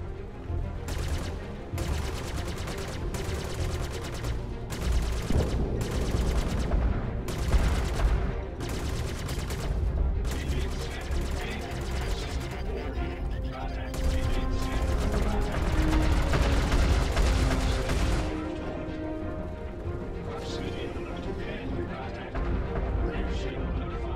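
Star Citizen ship guns fire in repeated rapid bursts during a dogfight, loud and rhythmic, separated by short gaps over engine rumble and game sounds. Someone talks intermittently over the shooting.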